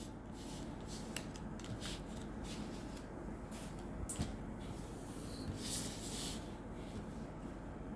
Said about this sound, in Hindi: ये कार्ड मैं आप सारे साइड पे कर दूँ ज़रा